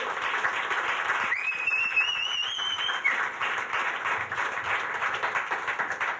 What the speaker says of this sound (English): Popular man, a round of applause